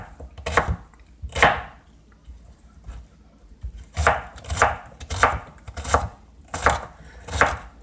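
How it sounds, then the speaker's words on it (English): A knife chops through an onion on a cutting board in a series of sharp, close thuds, two quick cuts then a pause followed by a steadier run of about six more, with no talking. "Let's cut up our onion."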